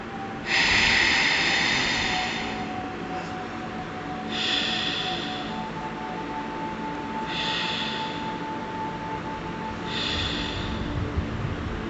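Slow, deep breaths during a seated yoga forward fold, four long airy exhales spaced a few seconds apart over a low steady background hum.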